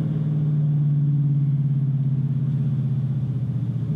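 A deep, burbling V8 exhaust from a 2019 Dodge Challenger HEMI rumbles steadily, with the engine note pulsing and easing as the driver shifts, loud and close with no talking.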